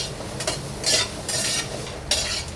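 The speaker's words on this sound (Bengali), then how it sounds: "এটা কিন্তু শুধু কড়ার মধ্যে এরকম করে ভাজতে হবে কাঁঠাল বীজের সাথে" Dried red chillies, onion and jackfruit seeds frying in a wok, with bursts of sizzling and stirring scrapes rising and falling in several waves, close and fairly loud, no talking.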